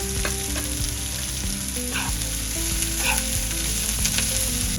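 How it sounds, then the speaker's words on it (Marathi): Capsicum and carrot sauté in a hot pan for egg fried rice, giving a strong, continuous sizzle with repeated stirring scrapes of the spatula, close and steady without any voices. "आपण शिमला मिरची घालूया. गाजर घालूया. परतून घेऊया."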